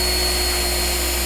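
Power drill boring a hole through the rusty steel floor of a 1972 Chevy Nova, a loud, steady high-pitched whine that winds down abruptly at the end.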